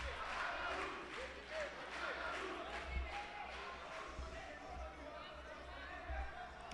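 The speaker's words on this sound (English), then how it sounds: "The crowd goes mental here." Crowd roaring and shouting at a grappling match between two athletes, a faint, surging wall of voices with thuds on the mat and commentary talk over it.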